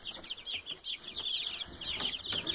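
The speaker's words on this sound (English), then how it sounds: "And so I'm going to show you how big our other chicks here are." Young Buff Orpington chicks in a brooder in Iowa, a continuous cluster of high, rapid peeping and chirping from several birds close by, fairly loud and without talk.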